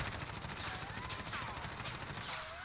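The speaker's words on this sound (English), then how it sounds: "Let's go ahead and compare it to the MP5 from Modern Warfare" Continuous rapid fire from a Modern Warfare MP5 submachine gun in Warzone, a dense, steady rattle of shots heard close throughout before easing slightly at the end.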